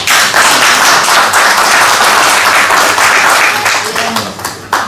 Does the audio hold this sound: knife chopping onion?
no